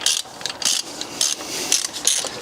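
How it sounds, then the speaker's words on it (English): Socket ratchet clicking in short repeated bursts as a Torx 50 bolt is backed out of the automatic belt tensioner on a BMW N47/N57 diesel engine, close and fairly loud with no talking. "Just remove that bolt fully with the automatic tensioner itself."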